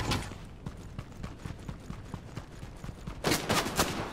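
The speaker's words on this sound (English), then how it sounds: "Oh, someone's shooting." Rapid gunfire in Fortnite crackles as a dense run of sharp shots, with a louder, closer burst near the end.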